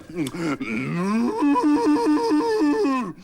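A person imitates a cow's moo, a long, wavering, lowing call sustained for a few seconds, loud and close.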